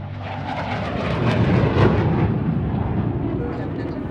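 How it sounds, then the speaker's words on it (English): An airplane comes in to land, a dense, near roar of the aircraft that swells to a peak midway and then eases slightly while staying loud throughout. "the plane as it comes in for a landing"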